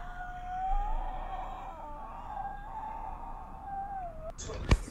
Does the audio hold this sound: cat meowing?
yes